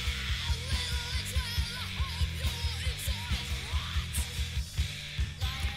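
A punk rock song excerpt plays with pounding drums, distorted guitars and screaming vocals, driving at a fast steady beat and sounding loud and dense throughout.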